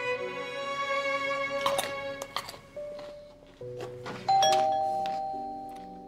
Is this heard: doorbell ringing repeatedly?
yes